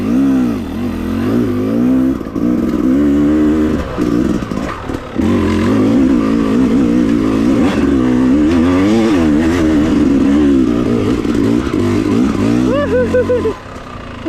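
Dirt motorcycle revving hard on a muddy trail, a close, loud engine rising and falling through repeated throttle blips and strained revs, with brief pauses and a faint voice at times.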